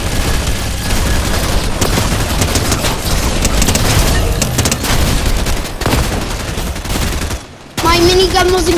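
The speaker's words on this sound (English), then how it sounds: "Minigun wasn't good." A minigun fires in the video game Fortnite, a loud, dense stream of rapid shots that barely lets up, with a short dip near the end and some talk mixed in.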